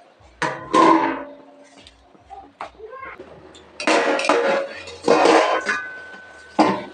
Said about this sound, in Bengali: আর একটু ঢেকে দিচ্ছি।